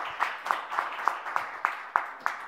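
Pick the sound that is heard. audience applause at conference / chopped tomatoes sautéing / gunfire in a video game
audience applause at conference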